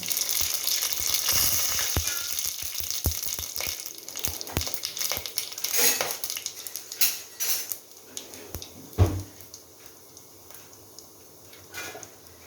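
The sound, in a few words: whole garam masala spices sizzling in hot oil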